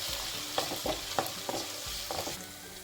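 A spoon stirs sizzling gobi manchurian ingredients in a hot pan. A continuous frying hiss carries a handful of distinct scraping strokes, close and moderately quiet, with no voices.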